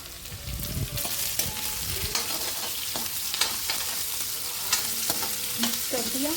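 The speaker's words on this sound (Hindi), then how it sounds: "अब प्याज के साथ साथ ही मैं इसमें आलू भी मिक्स कर दूँगी, ताकि आलू जो है जल्दी गल जाएँ और प्याज जले भी ना, दोनों एक साथ ही थोड़े फ्राई हो जाएँ।" Onion and potato frying together in a pan while being stirred, a loud continuous sizzle with repeated scraping strokes of a spoon against the pan, no talk.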